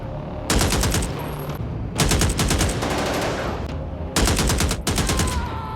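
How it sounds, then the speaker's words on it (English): Rapid bursts of automatic gunfire in a movie shootout crackle loudly in three long volleys separated by brief pauses, with dense, echoing reports and no talk. "They begin to move and instantly come under gunfire, but Paxton kills them all."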